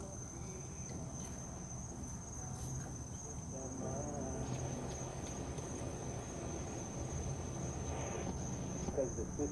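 Insects chirp outdoors in a steady, continuous shrill drone with a constant high tone, while some faint background sounds sit underneath.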